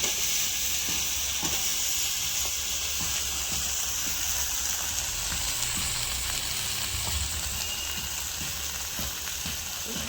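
Eggplant fries in a hot pan as it is stirred, giving a loud, steady sizzle with soft scraping knocks from the stirring scattered through it.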